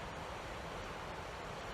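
Steady broadband rush of a river flowing close by at a quiet outdoor meditation spot, a continuous even wash of water with no voices.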